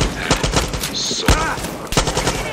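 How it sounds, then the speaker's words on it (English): Gunfire in the shooter game Far Cry 6, with several sharp close shots and bursts spread over a couple of seconds amid other game sounds, with a brief voice heard. "stop shooting at me"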